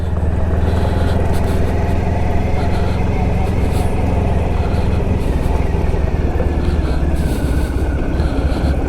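Heavy trucks rumble past on the road, heard continuously and loud from a moving 1994 Honda ST1100 Pan European motorcycle, with steady broadband road and wind roar throughout.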